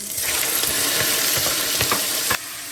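Garlic and onion frying in cooking oil in a pan, a loud steady sizzle with scattered crackles and stirring clacks, cutting off abruptly near the end.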